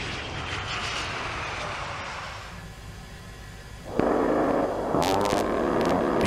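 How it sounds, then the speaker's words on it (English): A-10 Thunderbolt II attack aircraft running during unimproved surface landing practice, a steady broad engine roar that dips in the middle before a louder surge returns, with no talk. "practice unimproved surface landings with the A-10 Thunderbolt II attack aircraft"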